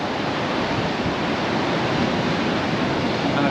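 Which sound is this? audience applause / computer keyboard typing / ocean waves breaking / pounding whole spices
ocean waves breaking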